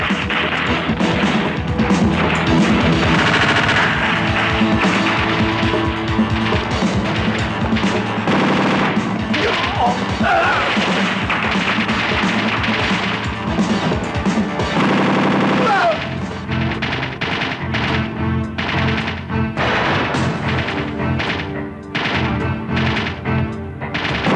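Sustained machine gun fire from an action film scene, loud and continuous rattling bursts with crashing impacts, running for about twenty seconds and thinning toward the end, with faint voices now and then.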